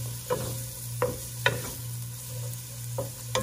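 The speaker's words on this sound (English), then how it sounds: "I'll add my onions and my garlic and get them sauteed" Onions and garlic saute with a low steady sizzle in a pan while a utensil stirs them in a few sharp scraping strokes, close and alone.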